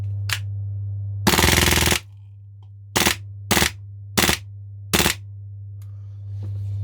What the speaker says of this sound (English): So this is on the full auto now.